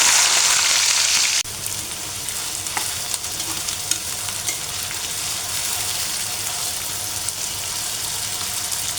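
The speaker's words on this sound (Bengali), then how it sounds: "আমি কিছু পেঁয়াজ কুচি দিয়ে বেরেস্তা করে নেব" Chopped onions fry into birista for a beef kabab with jackfruit seeds, a loud burst of sizzling at first settling into a steady crackle with occasional stirring clinks, near and without voices.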